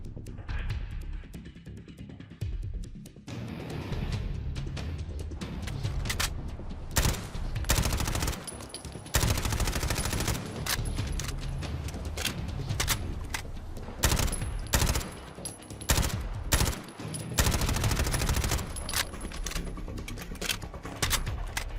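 Rapid MP5 gunfire from a Modern Warfare weapon mod in Fallout 4, loud, dense bursts of automatic shots firing almost continuously for about twenty seconds with only brief gaps, plus bright metallic clinks between volleys.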